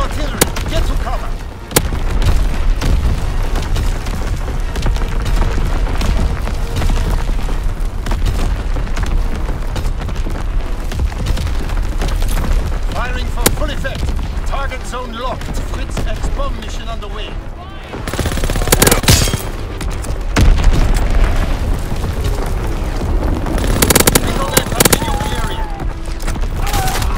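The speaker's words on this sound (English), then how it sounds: "Incoming enemy artillery. Get to cover." Enemy artillery barrage in the video game Call of Duty: WWII, with heavy booms and explosions mixed with constant rapid gunfire, loud and close throughout, and voices heard intermittently beneath the din.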